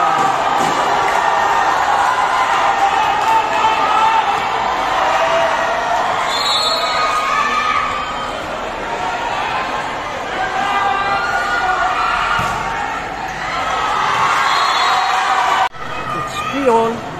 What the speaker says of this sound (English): Tingnan niyo ang cheer ng mga tao.